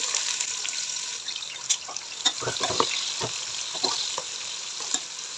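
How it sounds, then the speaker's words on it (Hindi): Onions hit hot oil in a pan for vegetable pulao and sizzle in a bright, steady hiss, with scattered sharp crackles and pops close by. "ऑयल गर्म हो चुका है, इसमें प्याज ऐड कर देंगे सबसे पहले"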